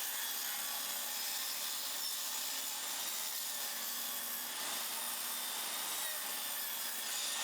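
A table saw rips pallet planks, giving a steady, moderately faint whirring hiss with no clear breaks, continuous throughout.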